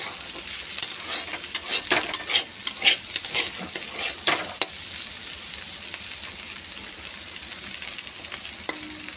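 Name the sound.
bitter gourd (karela) frying in pan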